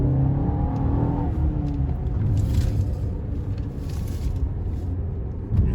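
Failing wheel bearing on an Audi/VW car produces a low rotational roar and rumble while driving on the road, a steady droning hum blended with tire noise, close and moderately loud with no talking.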